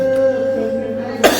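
A person gives one short, sharp cough near the end, close by, over a steady humming tonal background in a cold outdoor setting.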